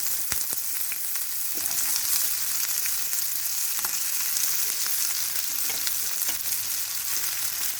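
Cloves, cardamom and cinnamon fry in hot oil in a pan, a steady loud sizzle with scattered crackles and pops throughout, close up and without talk.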